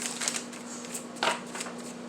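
Tarot cards being shuffled by hand in a series of quick riffling bursts, one louder riffle midway, close and moderately quiet over a steady low hum.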